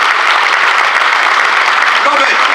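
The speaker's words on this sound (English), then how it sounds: "take a round of applause for their fantastic contribution to Corby's revival" Loud, dense applause from a seated audience at a Corby community event honouring investors in the town's revival, a steady wash of many hands clapping throughout with a faint voice surfacing near the end.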